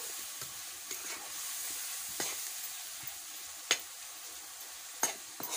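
Masala with tomato for a village-style brinjal curry sizzles steadily in a pan, a soft, even hiss broken by a few sharp scrapes and clicks of a spoon stirring at intervals.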